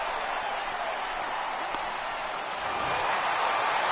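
Home crowd in a PS4 baseball video game cheers steadily late in the game, a continuous roar of applause and crowd noise without a break.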